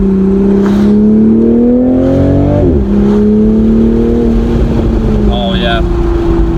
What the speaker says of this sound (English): you can hear the blow-off valve, the pops, the turbo noises